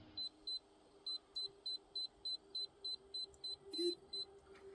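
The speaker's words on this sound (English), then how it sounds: "it starts beeping when you're getting close and then vibrates once you hit your torque" A digital torque wrench tightening engine mount bolts on a 2006–2010 VW Jetta, Golf or Rabbit gives a regular series of about fourteen short, clear electronic beeps, evenly spaced and close, over a quiet workshop background.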